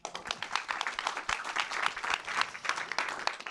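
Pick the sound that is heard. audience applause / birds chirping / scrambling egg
audience applause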